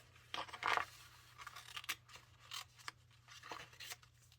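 Scissors cut out printed paper in a series of crisp, close snips, irregular and spaced across the clip, quiet against a low steady hum.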